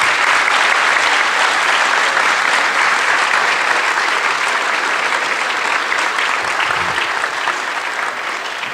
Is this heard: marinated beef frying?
no